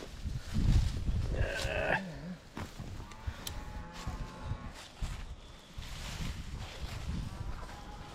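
A cow on a farm lets out a low, drawn-out moo. Rustling, splashing outdoor noise and other livestock sounds mix in with it over several seconds. Nobody speaks.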